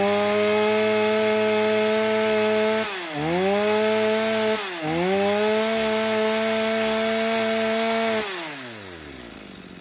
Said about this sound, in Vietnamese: cả chúng em xin phép giật test nổ con này cho các bác nghe qua